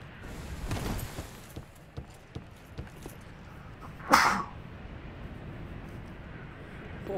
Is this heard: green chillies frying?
no